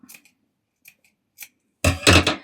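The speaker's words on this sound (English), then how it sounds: "trim away a little excess and just snip around the curve just to help it lie flat" Scissors make several quick, separate snips as they cut fabric around a curved seam for a Regency-style dress, close and crisp, ending in a longer, louder run of cutting.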